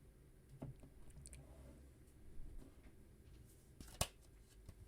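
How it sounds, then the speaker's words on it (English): Tarot cards being shuffled, a few soft, sparse riffles and taps recorded very close but faint against quiet background, with one sharper snap near the end. "Do you want me to shuffle more cards?"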